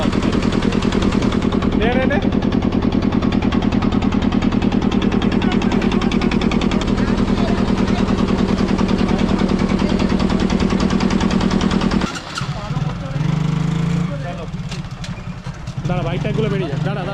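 A Japanese-made 4000 generator engine runs loud and steady with a dense mechanical drone, then shifts to rougher, uneven running near the end, with voices talking over it.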